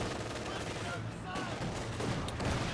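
Sustained machine gun fire from a Company of Heroes 2 battle, a dense continuous rattle of automatic weapons and scattered shots filling the whole moment, with a voice talking over the din.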